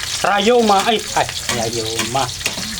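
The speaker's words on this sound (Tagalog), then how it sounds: "magigisa muna tayo ng mga bawang sibuyas" Garlic and onions sauté in a pan for ginisang pechay, with a bright, close sizzle and stirring, partly covered by a voice.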